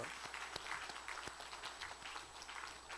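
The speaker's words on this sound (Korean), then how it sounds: "격려와 감사의 박수." A church congregation at a Sunday service claps steadily in a soft, distant wash of applause that holds evenly throughout.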